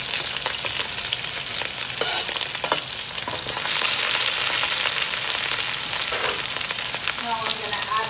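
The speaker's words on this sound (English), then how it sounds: "my green seasoning, my ginger, my pepper, all in here to start saute down, fry up" Green seasoning, ginger and pepper sizzle and fry steadily in a pan for a Guyanese vegetable chow mein, a dense close hiss with scraping stirs and clinks, no talking.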